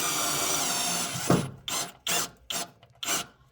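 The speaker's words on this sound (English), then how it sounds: "That's how to drill through steel." A power drill grinds continuously through steel, then cuts out into several short repeated bursts of rough, rasping drilling at close range.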